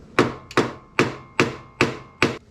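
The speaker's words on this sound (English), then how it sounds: "We're going to tap it in and drop it." Hammer tapping a bolt extractor into a drilled motorcycle bolt: six sharp metallic strikes at an even, roughly once-per-half-second rhythm, close up and with no talk.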